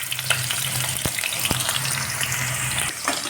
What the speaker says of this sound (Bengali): প্রথমে আলুগুলোকে ভেজে নেওয়া হচ্ছে।